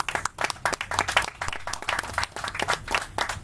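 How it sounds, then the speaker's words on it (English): A small audience applauds a panel at an anniversary event, a dense, irregular burst of many hands clapping together, close and moderately loud, with no talking over it. "please give a round of applause for our panelists"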